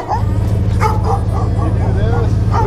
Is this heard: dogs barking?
yes